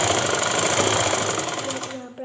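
A sewing machine runs steadily while stitching pleats into a salwar, a continuous close mechanical whir under a voice speaking throughout, easing off as the machine stops near the end.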